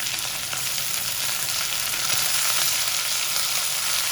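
Kung Pao chicken stir-frying with vegetables in a hot pan gives a loud, continuous, dense sizzle and crackle that holds steady throughout, up close with no voices.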